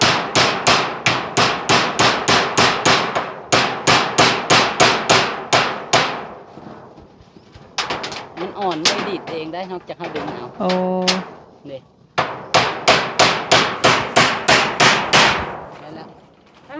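Rapid, sharp hammer blows drive nails into a hut roof in fast bursts of repeated knocks, pausing between runs while a person talks and a tonal squeal briefly sounds.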